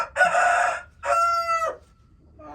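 A rooster, a breeding cock, crows loudly and close in two long harmonic calls, with a shorter start of another call at the end.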